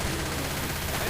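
Uzi gunfire in a video game comes as a dense, loud burst of rapid shots filling a short moment, with no talking.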